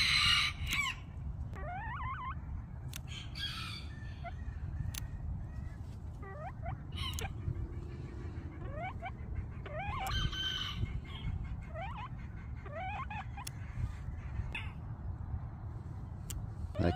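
Bantam chickens and roosters in a yard cluck and crow, several high crows and squawks scattered over steady low background noise, some close and some farther off.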